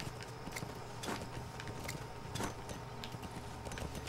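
Horse hooves clip-clopping in Metal Gear Solid 5: The Phantom Pain, a steady run of hoofbeats with a few louder impacts over a constant game ambience.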